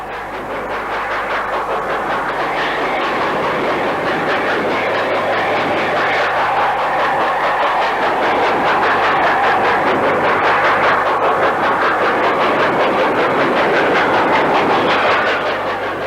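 A V2 steam locomotive train departs for Scarborough, rolling past with a steady, heavy rumble and clatter that swells and fades over several seconds, with no voices.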